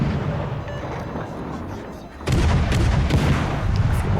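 Naval guns on the ship Jager in a video game fire in a loud burst of booming shots that swells into heavy rumbling blasts, with a voice talking over it.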